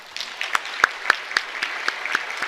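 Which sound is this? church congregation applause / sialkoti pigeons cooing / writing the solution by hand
church congregation applause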